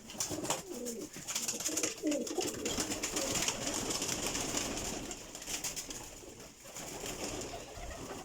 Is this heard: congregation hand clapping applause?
no